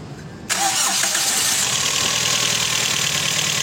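A Toyota Vios engine with a misfiring fault cranks and catches after a short quiet moment, then settles into a loud, close, rough-sounding idle that carries on without pause.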